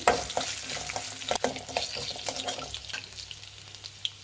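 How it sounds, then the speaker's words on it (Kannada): Ginger fries on a medium flame while chicken biryani is prepared, a soft continuous sizzle broken by irregular stirring scrapes and clinks, heard close and alone. "ಇದನ್ನು ಸ್ವಲ್ಪ ಫ್ರೈ ಮಾಡಿ ಮೀಡಿಯಮ್ ಫ್ಲೇಮಲ್ಲಿ ಇಟ್ಬಿಟ್ಟು ಫ್ರೈ ಮಾಡಬೇಕಾಗುತ್ತೆ"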